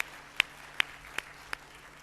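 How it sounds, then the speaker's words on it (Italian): Four sharp, isolated hand claps, evenly spaced and fairly faint, ring out in a church welcoming visiting Korean guests over a quiet background. "Vogliamo fare un applauso per la loro presenza tra noi."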